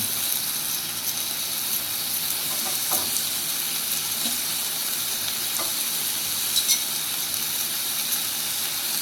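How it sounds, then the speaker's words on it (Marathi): Vegetables, including cabbage, French beans and capsicum, are stir-fried in a pan for pea cutlets. A constant loud sizzle fills the clip, with occasional soft scrapes of stirring and no talking. "आता आपण सगळ्या भाज्या त्यात परतून घ्यायच्या आहेत."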